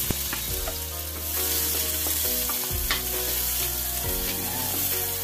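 Onion sautéing with garlic in a pan for a crab, squash, moringa and string bean coconut stew, a loud steady sizzle with stirring clatter close by, no talking.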